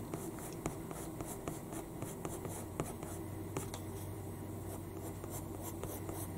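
Pencil strokes on paper during a colour portrait drawing, soft steady scratching with light repeated strokes close to the listener, quiet and continuous with no talking.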